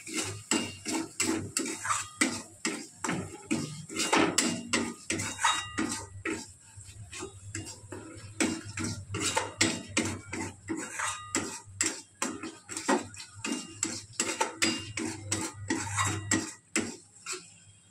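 A spoon scrapes and clacks rapidly against a pan while stirring mashed potato filling for aloo paratha on low gas, a busy, close run of metallic knocks stuck to the pan bottom.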